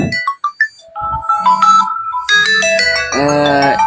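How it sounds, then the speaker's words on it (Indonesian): A phone ringtone for an incoming call plays loud and close as a bright, repeating electronic melody of short chirps and sustained tones, rising into a fuller chiming phrase toward the end, with no talking over it. "ada telepon bentar"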